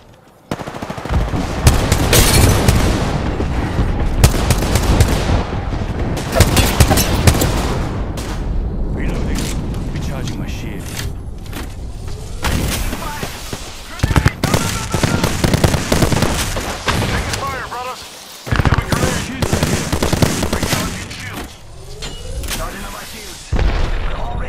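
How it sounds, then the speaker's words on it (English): Loud, dense gunfire fills an Apex Legends firefight: rapid automatic bursts, heavy booms and impacts that come in waves, with brief lulls between them, while a player talks over the action. "I'm getting shot."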